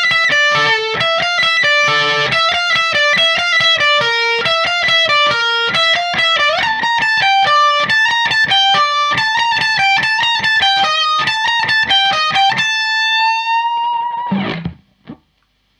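Distorted electric guitar plays a fast riff sequence, rapid picked notes in a steady driving rhythm, loud and close, ending on a long held bent note and a brief string noise.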